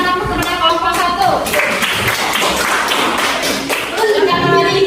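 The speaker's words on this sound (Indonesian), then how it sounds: "kita berikan tepuk kepada kelompok 1" A classroom gives a short round of clapping for a student group, hands clapping irregularly close by while students talk and call out over it.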